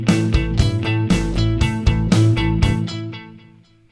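Electric guitar played through an HX Stomp harmony delay with the third removed, rhythmic picked chords and notes repeating with echoed harmonies, loud and close, then fading out with no talking.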